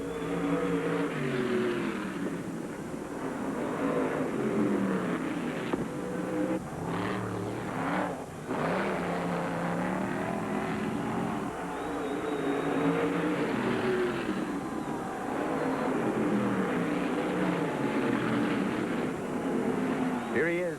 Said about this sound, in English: Here he is out of the fourth turn in a beautiful four-wheel drift high to the wall and across the finish line.